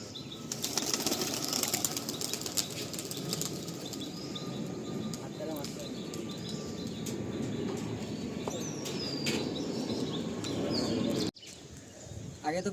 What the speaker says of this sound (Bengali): এই কটা পায়রা আমরা ফ্লাইট দেবো।